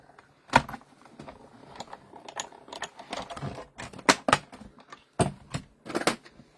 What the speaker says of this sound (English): let's go ahead and cut our circle here